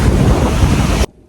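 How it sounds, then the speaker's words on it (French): Strong wind roars across a microphone by the ocean at sunset, a loud, steady broadband rush with surf mixed in, cutting off abruptly near the end. "Je sais pas si vous allez m'entendre parce qu'il y a beaucoup de vent"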